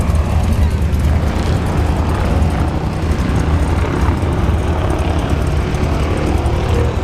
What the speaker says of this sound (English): Good burn out there in the Hellcat.